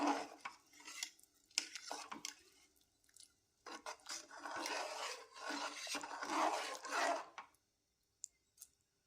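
Rice mixture stirred in a pressure cooker pot for pea and fenugreek-leaf pulao, with a spoon scraping and clinking against the metal in uneven bursts, then trailing off to near silence with a few faint taps.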